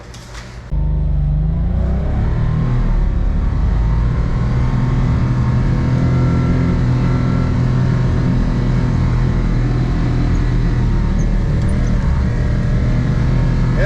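Can-Am Defender HD11 side-by-side on tracks driving through about a foot of snow, its engine a steady loud drone heard from inside the cab, starting abruptly and holding a continuous rumble throughout.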